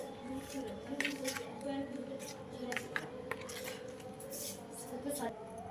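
Close metal spoon scraping and clinking against a cooking pot as turmeric, Kashmiri chilli powder and cumin powder are mixed together for a vegetarian milk-paneer dish, with steady repeated strokes at moderate volume.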